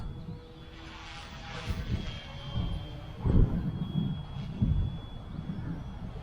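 An RC UH-1D Huey helicopter with brushless motors passes by outdoors, a faint buzzing whine with a thin steady tone, mixed with gusty wind rumble and thumps, rising and fading as it flies past.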